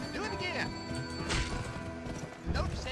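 Horse hooves clip-clopping in the Western video game GUN, rhythmic thuds and knocks over game music and ambience.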